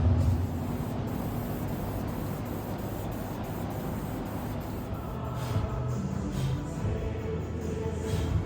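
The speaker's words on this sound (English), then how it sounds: "I'm gonna spray paint all that first." Steady, loud hiss of spray paint from an aerosol can being applied to the freshly cut sunken floor of a 1950 Mercury, continuing throughout with only slight swells.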